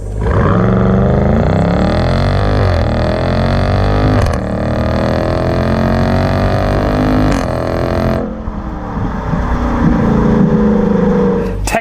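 A 2019 Dodge Durango SRT engine roars under full-throttle acceleration, loud and close, with rising revs broken by quick gear shifts around four, seven and eight seconds.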